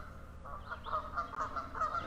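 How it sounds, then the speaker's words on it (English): Canada geese honk repeatedly at Paris Mountain State Park, a series of short, fairly close calls in an irregular rhythm over outdoor background noise. "Do you hear the geese honking? We do have Canada geese here at Paris Mountain."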